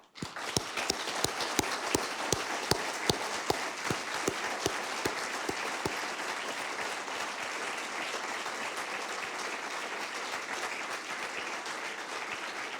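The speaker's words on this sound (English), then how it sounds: "join in a round of applause for all who have made this conference so good" A conference audience breaks into a sustained round of applause at the close of a keynote lecture, dense clapping filling the hall steadily for the whole stretch, with a few sharper individual claps standing out early.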